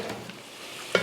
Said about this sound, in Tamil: இந்த மசாலா கூட சேர்ந்து 5 நிமிஷத்துக்கு நல்லா சிக்கன் வந்து வதங்கட்டும்.